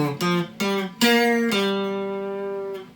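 A blues lick in G pentatonic rings out as a few clean, sustained single notes, the last held and decaying slowly, played alone with no talking.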